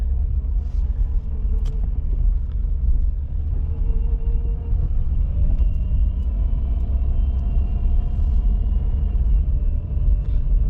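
A car with a freshly repaired power steering pump rolls around a residential complex, a steady low engine and road rumble with a faint whine riding on top, close and continuous.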